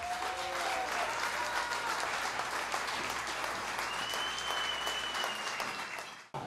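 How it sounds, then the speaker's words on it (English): A large crowd at a United States Marine Corps 240th birthday celebration claps in sustained, full applause, with faint whistles or voices mixed in before the clapping dies away at the very end. "Let's give a huge round of applause"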